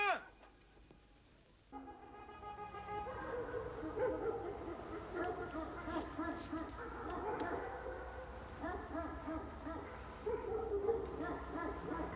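Several hunting dogs bark and yip in a busy, overlapping chorus, fairly close, with voices and outdoor commotion mixed in throughout.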